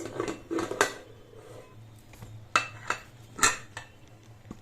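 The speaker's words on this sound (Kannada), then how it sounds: "ಈಗ ಕುಕ್ಕರ್ ಲಿಡ್ನ ಮುಚ್ಚಿ" A metal pressure cooker lid is handled and closed over mutton biryani, giving several sharp clanks and clatters in uneven bursts, close and fairly loud.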